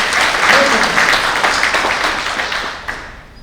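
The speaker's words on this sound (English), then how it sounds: "big applause to Dr." Loud applause from a conference audience for a speaker at a geoscience conference's concluding session, a dense sustained clapping that gradually tapers off toward the end.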